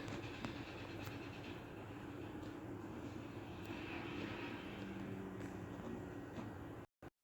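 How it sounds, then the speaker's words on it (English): A steady, rumbling roar of a train rolling along the rails at about 70 miles per hour, continuous and moderately distant, cutting off abruptly at the end. "then the train starts to travel at 70 miles per hour"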